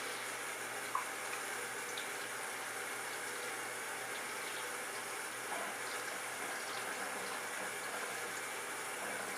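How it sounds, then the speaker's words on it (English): Cold tap water running steadily over cooked beets in a kitchen sink to loosen the skins, a constant hissing stream with no pauses and no talking. "you can run this over some cold water, and it helps out with the peeling as well"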